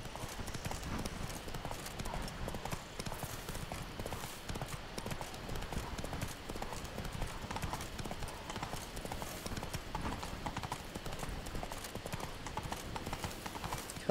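In The Witcher 3, the horse Roach gallops with a rapid, steady clip-clop of hooves that runs unbroken throughout, fairly quiet, with faint background game ambience and no clear voices.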